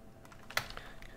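A short burst of typing on a computer keyboard, a handful of faint key clicks with one sharper keystroke, over a quiet room tone.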